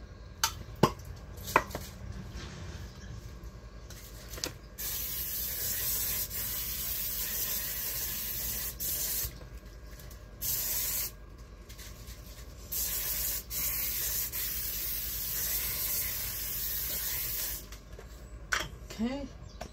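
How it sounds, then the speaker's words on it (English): Several bursts of hissing cooking spray into a frying pan, each a few seconds long, close by, with clicks and light clatter between them. "Take my pan here, I'm going to spray it."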